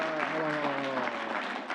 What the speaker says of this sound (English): No applause, please.